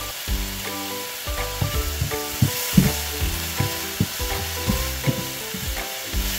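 Seafood sizzles in a hot pan with a constant frying hiss and scattered pops and spatters, close and fairly loud, with no voices.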